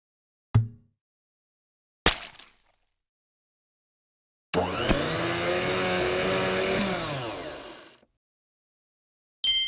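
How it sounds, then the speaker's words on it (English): A kitchen blender whirs steadily for about three and a half seconds while making a smoothie in a children's learning game, framed by short clicks and a brief chime-like tone before and after. "You blended a smoothie."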